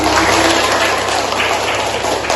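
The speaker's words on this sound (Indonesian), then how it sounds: "beri aplaus dulu untuk" Applause from a class or lecture audience, steady dense clapping throughout, fairly close and even in loudness.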